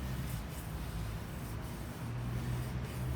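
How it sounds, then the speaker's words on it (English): A hand plane blade is rubbed back and forth on a sharpening stone to find the bevel, giving a steady, close, gritty scraping with faint rhythmic strokes and no voices. "Okay, so yes, I'm going to find the bevel now. I'm just going to continue sharpening it."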